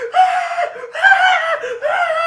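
A voice imitates a video game character's scream in three drawn-out, strained shrieks with brief breaks between them, loud and close with nothing else under it.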